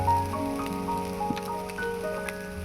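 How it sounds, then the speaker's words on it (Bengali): Chow mein noodles frying in a pan with chicken, soy and chili sauces, giving a steady crackling sizzle broken by small pops and spatters at close range, with no voices. "এবারে চাউমিনগুলো ভেজে নেব"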